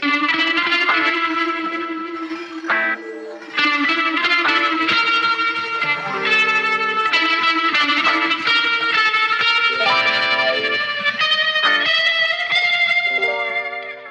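Electric guitar solo in a dub song, soaked in echo and distortion, sustained bending notes ringing out over a steady backing, loud and continuous.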